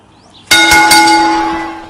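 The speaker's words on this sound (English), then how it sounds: "There's the bell" A wrestling ring bell is struck sharply a few times in quick succession, then its metallic ring hangs and slowly fades, loud and close.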